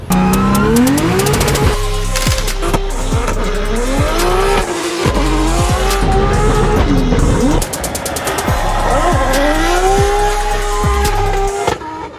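A Nissan Silvia race car making about 1000 horsepower revs hard while drifting on a track, its pitch rising and falling, with tire squeal running through, close and loud and nearly continuous.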